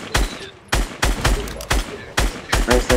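Gunfire in the Fortnite battle royale video game: several loud, sharp shots in quick bursts across about three seconds, close and dominant, with a short gap between volleys and no talk over them.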